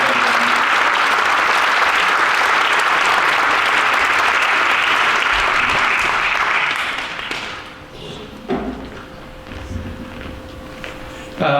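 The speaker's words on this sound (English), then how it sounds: "Let's give him another round of applause" Sustained audience applause for an award honoree at a Hall of Honor ceremony, loud and dense for about seven seconds before thinning into scattered claps, footsteps and light taps.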